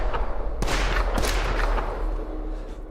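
Video game gunfire cracks in several loud shots over a dense, rumbling battle backdrop, close and punchy amid continuous noise.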